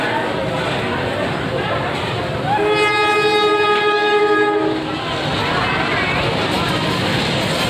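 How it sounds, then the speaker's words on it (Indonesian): The Bengawan passenger train from Jakarta Pasar Senen to Solo Purwosari rumbles past near Purwokerto, its horn sounding one sustained blast midway over the steady rolling noise of the cars. "Kemudian muncul kereta api Bengawan dari Jakarta Pasar Senen tujuan Solo Purwosari"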